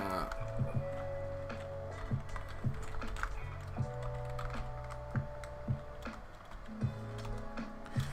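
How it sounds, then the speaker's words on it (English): Typing on a computer keyboard, with quick irregular bursts of close key clicks and clacks running through the whole stretch, fairly faint against a quiet room. "I'm gonna type it in right here"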